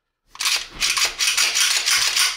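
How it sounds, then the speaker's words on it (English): Magazine ejected from an HK P30 pistol via the release behind the trigger, a quick series of sharp metallic clicks and rattles after a moment of silence, close and crisp. "The release button's right behind the trigger, so it can shoot the mag out to you."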